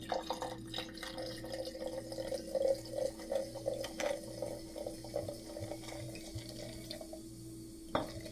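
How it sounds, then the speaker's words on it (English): Sparkling water pouring and splashing into a container, trickling unevenly with small drips and a faint fizzy texture over a low steady hum. "I'm gonna pour this in here."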